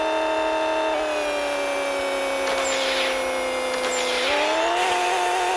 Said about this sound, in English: let's hit that nitrous and see what she can do